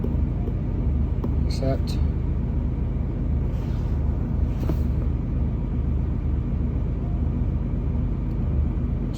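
A DAF CF85 Euro 6 heavy goods truck sits parked with its engine running through a DPF regeneration on a badly blocked filter, giving a steady, continuous low rumble throughout, with a brief voice over it.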